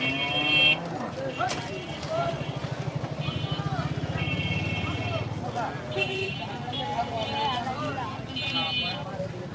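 A cow moos long and low amid a noisy outdoor crowd at a cattle market in Postogola, Bangladesh, with voices talking and faint traffic in the background.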